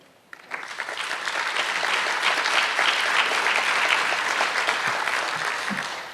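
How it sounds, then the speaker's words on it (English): Sustained audience applause after a congressional Republican primary debate, a dense wash of clapping that swells quickly and holds steady for several seconds before easing slightly. "let's give the candidates one more round of applause, all three of them."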